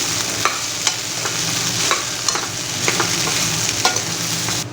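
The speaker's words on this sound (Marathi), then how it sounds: "आता यामध्ये बटाटे घालूया सगळे बटाटे घालायचे चांगले परतून घ्यायचे" Potato pieces for fasting-day potato vadas are sautéed and stirred in a pan, with a steady sizzle and regular scraping strokes of a spoon at a close, even level.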